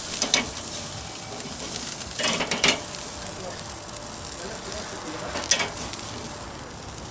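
Mushrooms sizzling on a grate over a Weber Performer charcoal grill, a steady low hiss outdoors with a few louder crackling bursts where they are flipped.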